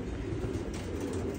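A pigeon coos in low, soft, repeated calls close by, over a steady background hum.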